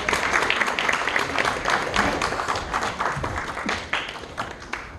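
At an energy transition forum anniversary ceremony, an audience claps to welcome an award presenter to the stage, a continuous, moderately loud round of applause with no speech over it.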